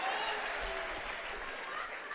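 A church congregation at The Spirit Church claps together in a brief, steady round of applause, heard faintly and fairly evenly for a couple of seconds.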